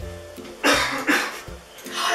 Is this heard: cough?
yes